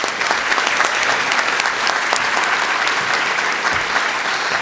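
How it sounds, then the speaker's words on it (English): An audience at an early college scholars celebration gives a steady, dense round of applause, many hands clapping continuously and loudly throughout with no voices standing out. "Let's give them another round of applause."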